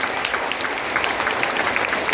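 An audience at an RCM meeting in Jamshedpur claps together, and the dense, continuous applause fills the whole room loudly and evenly.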